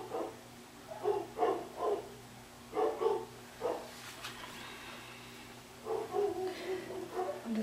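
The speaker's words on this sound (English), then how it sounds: "So you hear the dogs barking now." Several dogs barking in short bursts of repeated woofs, moderately near, with pauses between volleys and a steady hum underneath.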